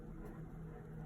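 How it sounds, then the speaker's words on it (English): A steady low engine drone hums throughout, loud and constant like an aircraft overhead, with no clear rise or fall during the short stretch. "apologies for that loud helicopter or plane"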